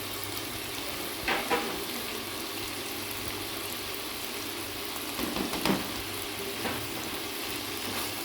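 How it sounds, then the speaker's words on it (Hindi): Mutton keema frying in a karahi in restaurant style, a steady close hiss and crackle with a few soft stirring scrapes, no voices. "कीमा हमने भून लिया है। अब हम इसके अंदर डालेंगे काली मिर्च और धनिया"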